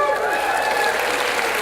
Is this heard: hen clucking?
no